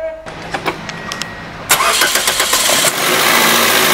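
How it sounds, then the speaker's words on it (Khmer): A car engine is cranked and fires up while a digital clamp meter measures its current. Short bursts of starter cranking give way to a steady, loud idle, with a voice briefly heard beforehand. "សូមបញ្ឆេះម្ដងទៀត"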